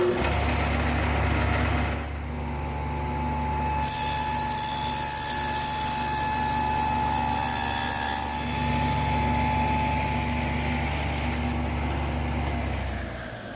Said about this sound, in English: So now I'll just plow out that dado.